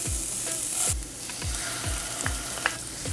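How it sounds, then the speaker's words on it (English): Onion and garlic sizzle steadily in a hot pan while a utensil scrapes and stirs in a regular rhythm of soft knocks, close up, with no talking. "we are going to start by sauteing some onion and some garlic"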